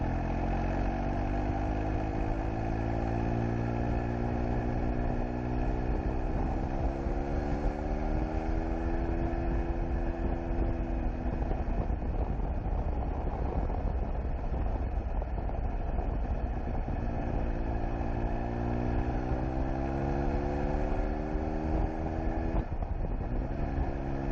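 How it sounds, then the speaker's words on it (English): Motorcycle engine pulling away from a junction after braking and gear changes, a steady mid-pitched drone with rising and falling revs, continuous and fairly close for the whole stretch. "Get all your braking and swapping of cogs done and the bike under drive before you start to bank, and then you can power away from the junction."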